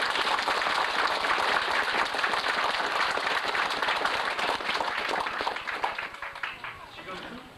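A hall of delegates at a 1995 party chapter founding convention applauds together to elect a chairman, dense sustained clapping that stays loud before gradually thinning toward the end.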